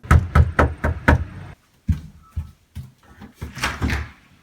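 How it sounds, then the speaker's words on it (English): A rapid series of five loud, close knocks on a door, followed by a pause and then softer shuffling and handling sounds. "there was a knock at the door."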